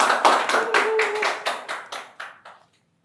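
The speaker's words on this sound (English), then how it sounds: "Thank Thank you, CK. Round of applause." Applause for a student speaker at a junior public speaking competition, a short burst of clapping that thins into a few separate claps and stops, moderately loud over a faint voice.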